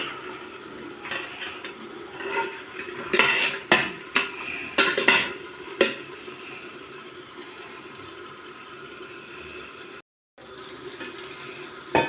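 A spoon scrapes and clinks against a pot while a salted chickpea dish is stirred and toasted, with a faint sizzle underneath and a busy burst of knocks in the middle.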